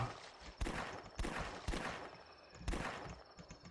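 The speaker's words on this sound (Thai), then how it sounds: "ยิงหัวสองนัดตาย" Headshot gunfire in The Last Stand video game, four loud, sharp shots spaced roughly half a second to a second apart, each with a short ringing tail, close and alone without talk.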